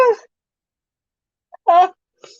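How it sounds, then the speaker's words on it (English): A person's sneeze comes in two bursts: a voiced 'ah' onset, then after a pause a sharp, loud, throaty release, followed by a faint trailing breath, close to the microphone during a live perfume chat. "Oh, I gotta sneeze."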